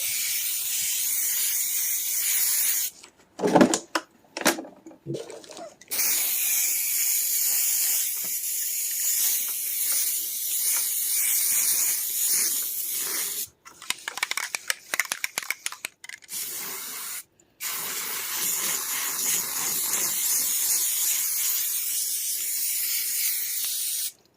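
Long bursts of loud, hissing spray paint on kitchen chairs in a garage run almost continuously, broken by brief pauses with clicking and rattling between sprays.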